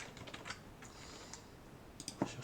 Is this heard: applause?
no